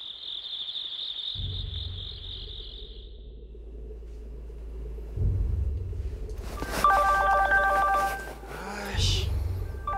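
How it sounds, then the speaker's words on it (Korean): A mobile phone rings loudly at night with a harsh, repeating tonal ringtone that starts abruptly partway through, over a steady low drone, following a faint cricket-like chirp. "핸드폰 벨소리가 요란하게 울리는 겁니다"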